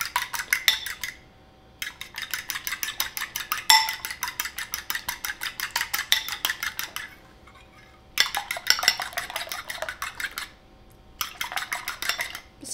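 Eggs being beaten in a bowl for scrambled eggs, likely with a fork or whisk, producing rapid, rhythmic clinking strokes in bursts separated by brief pauses, close by and without talk.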